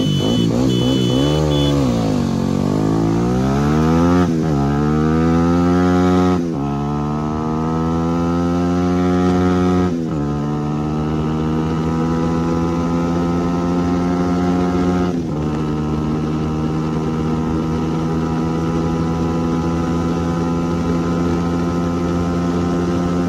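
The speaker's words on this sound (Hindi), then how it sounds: "बहुत ख़तरनाक सी आवाज़ है इस बाइक का" Motorcycle engines, among them a Suzuki Gixxer SF 250, Bajaj Pulsar AS200, 220F and NS200, pull through gears while ridden, loud, close revs rising and dropping with clear shifts between long steady pulls.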